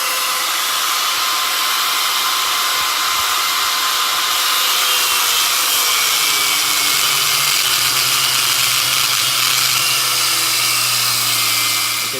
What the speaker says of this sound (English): I'll just drill this side now